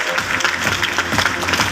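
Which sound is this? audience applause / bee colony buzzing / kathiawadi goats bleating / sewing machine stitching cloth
audience applause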